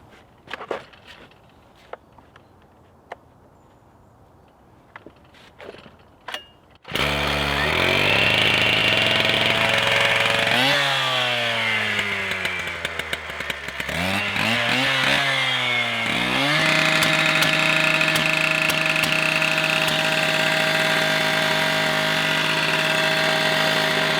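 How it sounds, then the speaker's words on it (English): An angle grinder starts up and cuts brick set on a piece of wood, a loud, steady high whine that dips in pitch as the disc bites into the brick, after a quieter stretch with a few clicks. "I'll just start it up, go for it and cut it"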